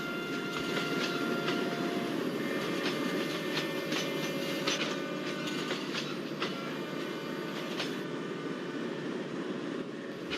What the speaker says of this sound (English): the train name is Malabar Express, which is leading by Ghaziabad P7 locomotive, which is moving rapidly towards KVCL junction